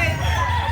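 A gamecock crows briefly and close at a rooster market in Lipa City, Batangas, a short raspy burst over background chatter and market noise.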